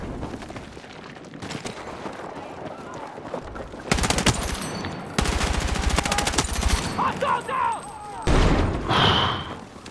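Gunfire from a gunfight in Battlefield 6 erupts in rapid automatic bursts and booms, dense and loud, with pauses between volleys.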